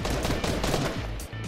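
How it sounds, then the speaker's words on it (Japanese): Rapid gunfire in the Fortnite video game, a dense stream of loud shots firing nearly continuously, close and unbroken apart from a brief pause near the end. "銃声する、ナイス。"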